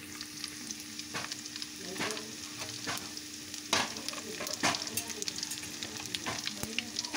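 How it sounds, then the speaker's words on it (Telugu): Whole tempering spices fry in hot oil in a pan for a cluster beans dish, giving a soft, continuous sizzle dotted with sharp pops and crackles, plus occasional stirring taps throughout. "ఈ విధంగా మొత్తం కూడా ఆయిల్లో ఫ్రై చేసేసుకోవాలి"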